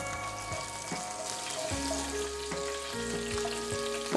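Tempering spices crackle in two spoonfuls of hot oil for a chutney, a steady close sizzle with faint popping, under a background of sustained tonal hum.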